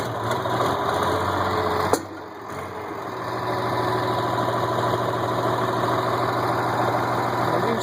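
A 1967 Farmall 706 diesel tractor, old and in rough shape, idles steadily with a low, even chug close by, briefly dipping after a sharp click before settling back into its constant hum.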